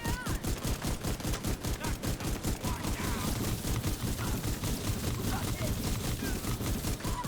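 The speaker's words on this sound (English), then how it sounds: "they are just shooting right through all of my shotgun blasts" Rapid, dense gunfire and shotgun blasts in The Division 2 during a heroic mission, a relentless loud stream of overlapping shots with a player's voice talking over it.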